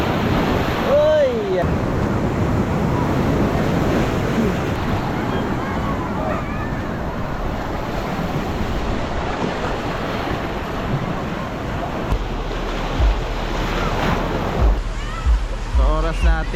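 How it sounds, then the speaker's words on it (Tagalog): Strong ocean waves crash and wash over a rocky shore at a surf beach in Real, Quezon, a continuous loud roar with wind buffeting the microphone and a person briefly calling out. "Uy, lakas ng alon."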